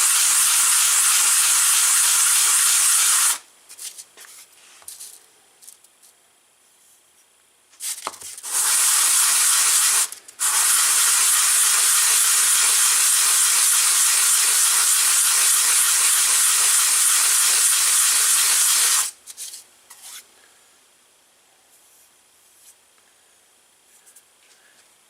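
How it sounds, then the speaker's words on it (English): Sanding an aluminum part from a 1999 Yamaha YZ125 motorcycle produces a loud, steady abrasive hiss in long strokes, broken by short pauses. "That's what I like about aluminum. It sands really easy."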